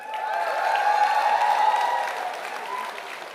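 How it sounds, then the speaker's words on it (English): An audience applauds the ColorOS team at the ColorOS 7 launch event, with steady, dense clapping that swells and then eases slightly over a few seconds, and faint tonal background sound running underneath. "a big round of applause for the ColorOS team for making it possible"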